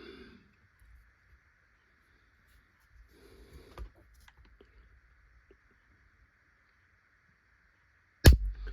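A Ruger American II rifle trigger is pulled on a quiet bench, giving a faint small click midway, then a sharp loud snap as it breaks near the end against near silence.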